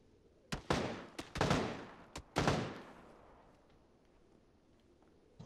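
Gunfire in PUBG: about six sharp shots in quick, uneven succession, each with a reverberant tail that rolls off into open-air quiet.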